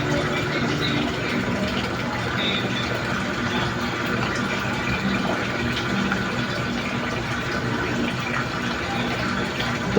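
Engine oil glugging steadily as it is poured from a one-liter bottle into a motorcycle, a continuous close liquid pour with faint rattling.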